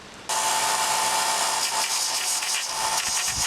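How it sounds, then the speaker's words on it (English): A handheld Dremel rotary tool grinds into a brass branding iron, a steady high-pitched whine with a faint hum that starts abruptly and runs close and loud throughout. "I'll just use the Dremel tool for carving my brand."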